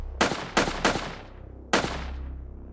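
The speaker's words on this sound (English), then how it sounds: "I heard gunshots ring out" Four loud gunshots from pistols: three in a quick, slightly uneven burst, then a short pause and a final shot, each with a sharp crack and a decaying echo.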